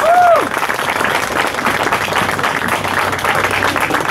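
Sustained applause from a crowd in a church, dense steady clapping that holds for several seconds, with a brief high tone near the start.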